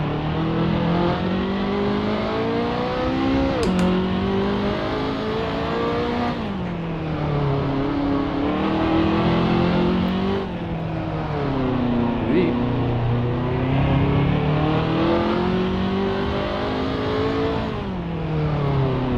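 A Mercedes 300SLR race car in Assetto Corsa revs loud and continuous, its engine pitch swinging up and down through gear changes, with a voice talking underneath.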